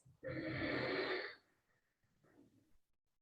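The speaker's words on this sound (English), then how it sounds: "And when you breathe in, it's going to sound like this." A single long Ujjayi ocean-breath inhale through a constricted throat gives a steady, close, breathy rushing hiss for just over a second, followed by quieter breathing.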